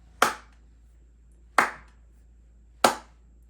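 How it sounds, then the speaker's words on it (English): Three slow, evenly spaced hand claps in a quiet room, each sharp and distinct with a short decay, about one and a third seconds apart. "he starts slow clapping"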